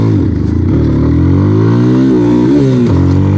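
Motorcycle in first gear, loud and close, with a rough idle that breaks into rising revs, a short dip, then more climbs in pitch. A short tooting sound comes early on.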